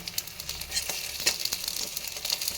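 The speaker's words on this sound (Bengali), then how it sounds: "তো আগে মাছটা আমি ভেজে নিচ্ছি" Fish fries in very hot oil, with a dense, crackling sizzle that spits and pops continuously, plus occasional sharper bursts.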